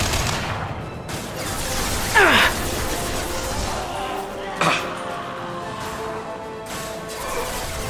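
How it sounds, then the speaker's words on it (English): Concussive shot fired during combat in the video game Mass Effect 2, heard as a sharp burst near 2.2 seconds and a smaller crack near 4.6 seconds, set within constant battle ambience and scattered game noise. "Firing concussive shot."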